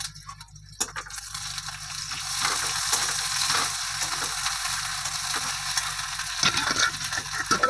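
Onion with ginger and garlic paste hits hot oil with bay leaf and five-spice tempering, a loud, steady crackling sizzle that swells and holds close, with faint clicks of stirring throughout.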